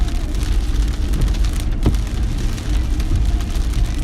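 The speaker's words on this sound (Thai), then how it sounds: "ฝนกำลังตกเลยจ้าจะมาแล้วเฮอริเคนจะมาแล้ว" Heavy rain falling on an island ahead of Hurricane Dorian, a loud, constant hiss of drops on surfaces with a low rumble beneath and a brief sharper splash midway, no voices.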